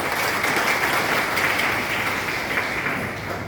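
A crowd applauds loudly and steadily, dense clapping that carries on throughout and eases slightly at the end.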